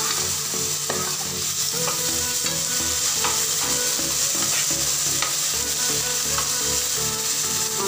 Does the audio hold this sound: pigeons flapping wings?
no